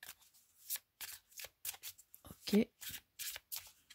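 Numerology cards are shuffled by hand in a quick series of crisp riffling bursts, close and fairly quiet, while someone speaks French between them.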